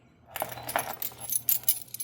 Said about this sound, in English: Another lot of keys.